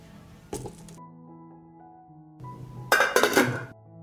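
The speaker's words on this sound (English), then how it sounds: "I put the pot on the stove. I will cover it." A pot holding jars and water is set on a stove and covered with a lid: a clunk of metal, tonal ringing from the pot, then a louder rattling clatter as the lid goes on.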